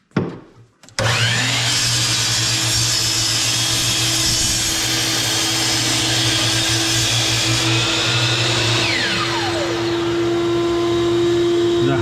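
Power tool with its blade held down in a wood pocket on a MikroRails project, a loud steady motor whine running almost continuously for about eleven seconds after a brief start, close up with no talk.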